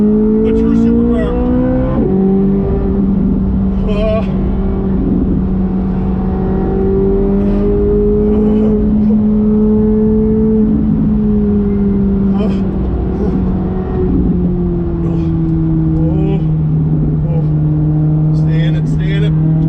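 A Chevrolet Corvette C8 Z06 supercar at speed on a race track, its engine droning loudly inside the cabin, with the pitch rising and falling as it shifts and accelerates, while a person talks over it at times.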